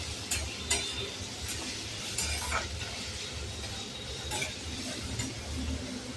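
Chopped onion and green chilli sautéing in oil for egg bhurji, a steady close sizzle with a spatula scraping and clinking against the pan in irregular strokes.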